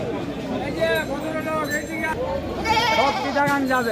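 Goats bleating at a crowded goat market where farm breeds are sold, several wavering calls rising over a constant babble of nearby voices and talk.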